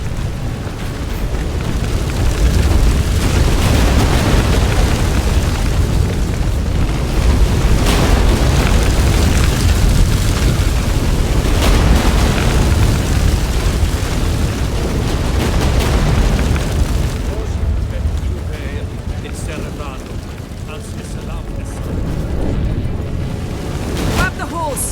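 Deep, continuous rumbling with repeated booming explosions during an earthquake in The Witcher 3, loud and heavy throughout, easing slightly toward the end.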